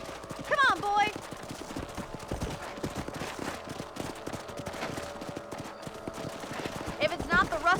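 Horse hooves clip-clop in a steady gallop rhythm while riding in the remastered Red Dead Redemption western game, continuing throughout, with brief voice-like calls near the start and end over a busy game soundscape.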